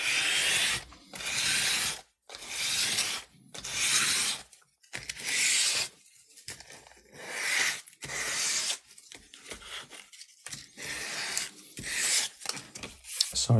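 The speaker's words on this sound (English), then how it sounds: "Sorry about the scratching noises again." Dry rasping scratches from hand-working low relief model scenery of Bag End, coming in repeated bursts of rubbing and filing with short pauses between strokes, fairly close and with no talking.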